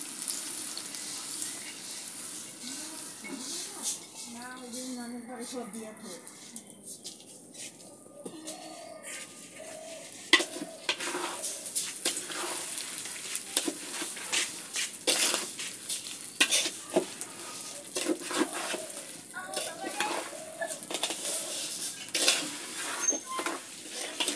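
Rice and lentils stir and sizzle in a pot while khichuri cooks for a Vishwakarma Puja offering, with scraping spoon strokes, clinks of utensils and soft bubbling that comes and goes.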